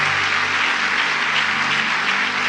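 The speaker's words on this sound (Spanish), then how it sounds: "Denle un aplauso al Señor." A church congregation applauding in praise to the Lord, dense continuous clapping that stays loud and even from start to finish, with a low hum beneath.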